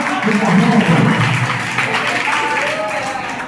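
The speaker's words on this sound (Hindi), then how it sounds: "ये अंतिम कविता है, इसलिए जोरदार तालियां बजाएं।" Clapping from the audience at a Hindi poetry gathering (kavi sammelan) at a Sanskrit college in Jaipur, heard as a continuous, moderately loud spread of applause with a voice or low tones briefly audible over it.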